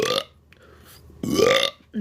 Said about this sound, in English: Can you burp my name?